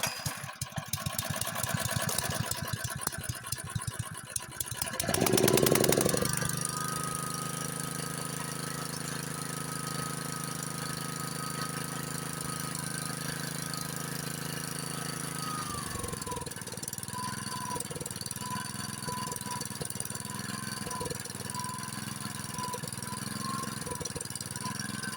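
A Honda snowblower engine with a surging problem, cranking and then catching with a loud burst before settling into a steady close idle whose pitch shifts slightly as it runs.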